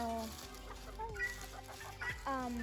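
Several backyard chickens cluck and murmur close by, with short rising calls overlapping in a busy, continuous flock chatter.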